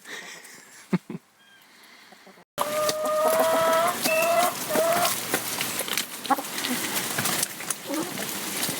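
Chickens cluck and call in a compost pen on a winter day, several tonal squawks rising over a steady outdoor hiss after a quiet opening, the birds close and fairly loud.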